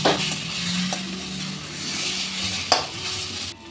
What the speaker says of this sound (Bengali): কচুর শাকটা খুব ভালো করে ভাজা ভাজা হয়ে গেছে দেখুন কচুর শাকে আর একদম জল নেই